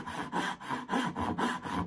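Hand saw starting a cut into the top of a timber board, steady rasping strokes in an even back-and-forth rhythm of about four per second, close and moderately quiet.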